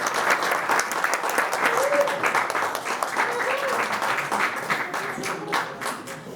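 Sustained audience applause at a live improv theatre show, a crowd clapping in a dense, even patter, with a few faint voices and cheers mixed in beneath it.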